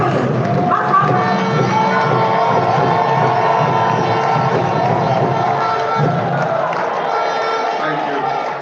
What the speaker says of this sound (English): with a standing ovation and a round of applause